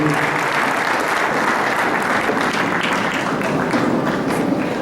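A church congregation at an Easter service claps in a dense, steady burst of applause filling the room without a break, with no voices standing out.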